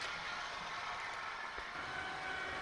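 A Bachmann Class 47/0 model locomotive in two-tone BR green, D1842, running along the track at top speed. A faint, steady motor whir with a continuous rolling rumble, no voices.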